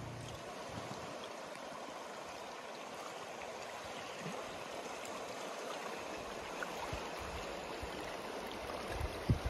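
River water flows steadily near a riverbank, a constant close rushing wash with no pauses and a few small splashes toward the end.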